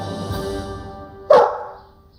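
One short, sharp dog bark rings out loud and close after a stretch of low background tone, then fades away quickly.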